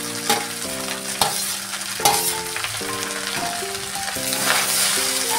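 Fried rice with vegetables stirred in a pan, bright sizzling under repeated rhythmic scrapes and knocks of a spatula against the pan, loud and close, with background music and no talk.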